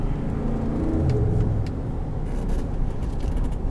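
A 2016 Ford F-150 Lariat pulls away under acceleration, its engine giving a steady, close rumble with a low whir throughout, and nobody speaks.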